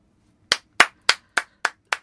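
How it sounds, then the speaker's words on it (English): A producer claps in a studio recording: six crisp, evenly spaced hand claps, close and dry, with nothing else underneath. "That's the producer. He's clapping."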